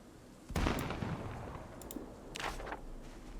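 Several sharp, distant bangs scattered over a few seconds, like faraway gunshots popping against a dull low background, in the video game Project Zomboid.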